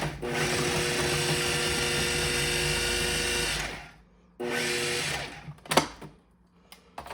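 A food processor chops an onion, its motor running as a loud, steady whir for several seconds, then stopping and giving one shorter pulse, followed by a few clattering knocks.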